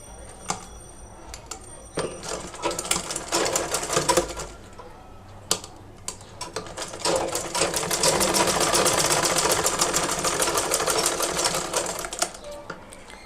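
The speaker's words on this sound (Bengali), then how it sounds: "তারপর আমি এই সাইড থেকে সেলাইটা করব" A sewing machine stitches a tassel piping seam on fabric in quick rattling bursts, starting and stopping early, then running in a longer steady burst, fairly close with no speech.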